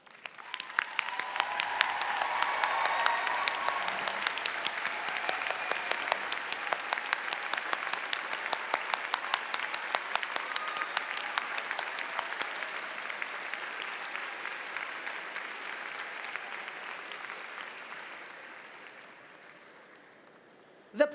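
Graduation audience at the Simmons College graduate commencement ceremony in 2012 applauds in a large hall, a dense, steady wash of many hands clapping that lasts about twenty seconds before gradually thinning out and ending.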